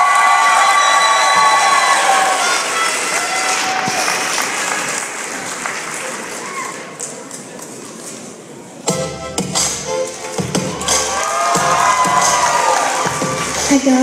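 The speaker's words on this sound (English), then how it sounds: "Please, a big round of applause for the most patient performer of the night," Audience applause and cheering for performer Parker Duggar, loud clapping with whoops and children's shouts that eases off midway, then surges again in a sharper burst of claps and cheers.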